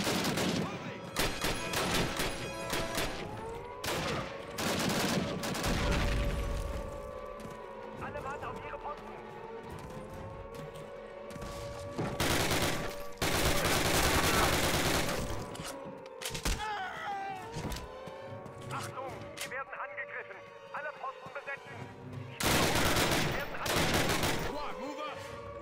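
Gunfire in the Call of Duty American campaign POW Camp mission, with rapid bursts of rifle and machine-gun fire and heavy explosive thuds filling the game mix while a player talks excitedly over it.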